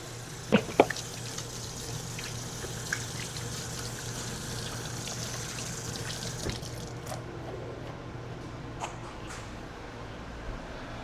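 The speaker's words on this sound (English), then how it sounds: "I'm gonna wash my hands really quick" Hands are washed under a running kitchen tap, a steady faint hiss of flowing water with a few clicks and knocks of the faucet and sink at the start and later on.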